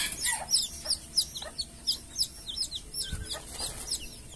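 Young F2 hybrid jungle fowl chicks in a brooding nest cheep and cluck continuously, many rapid high-pitched peeps overlapping close by, with a soft thump partway through.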